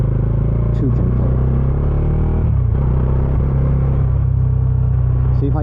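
A Bajaj Dominar 400 motorcycle with stock exhaust cruising along a road, a steady low engine drone and rumble with a gear shift partway through, while the rider talks over it.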